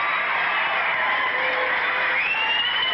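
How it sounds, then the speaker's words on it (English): A wrestling arena crowd cheers loudly for the Sheepherders, a steady dense roar of voices lasting a few seconds with whoops rising near the end. "wait till you hear this cheer for the Sheepherders and the Kangaroo"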